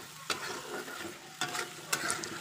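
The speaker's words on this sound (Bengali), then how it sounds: "পেস্টটা দিয়ে দিলাম, এবার ভালো করে কষিয়ে নেবো" Ground garlic and onion spice paste being stir-fried in a pan, a low, faint sizzle with three sharp scraping strokes of a spatula spread across the stretch, close but quiet.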